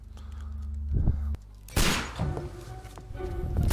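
Bursts of gunfire crackle and thud in the game Sherlock Holmes: Crimes and Punishments, a sharp volley breaking out midway over a low droning background.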